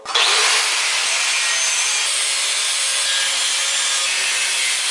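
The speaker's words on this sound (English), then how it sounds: "So grinder with a cutoff wheel." A high-pitched, steady, harsh whine of an angle grinder with a cutoff wheel cutting through metal plate, loud and close, running continuously without a break.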